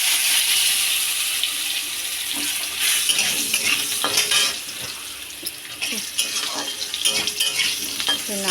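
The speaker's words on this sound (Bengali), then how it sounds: "আলুটা আমি দিয়ে দেবো, প্রথমে একটু ভেজে নেবো আলুটা।" Potatoes fry in a pan for a fish curry, a close bright sizzle with stirring scrapes and clinks, loud and continuous with slight dips.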